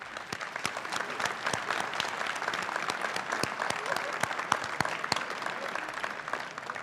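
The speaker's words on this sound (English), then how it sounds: "Let's give them one more round of applause." A ceremony audience gives sustained applause to scholarship and award winners at a senior awards ceremony. The applause holds steady and dense, with a few sharper individual claps standing out from the crowd.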